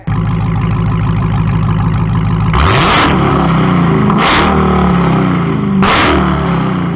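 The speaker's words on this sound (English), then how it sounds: "Alright, let's do a rev battle." Car engines revving hard in a rev battle among show-off cars, an idling rumble broken by three sharp, loud throttle blips about a second and a half apart.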